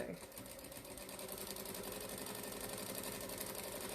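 A home sewing machine stitches embroidery thread through a quilted jelly-roll strip tote bag at a long stitch length, giving a quiet, fast, even mechanical whirr that runs steadily throughout.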